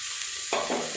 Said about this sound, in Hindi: और उसके बाद हम इसमें ये हमारा चॉप किया हुआ प्याज डालेंगे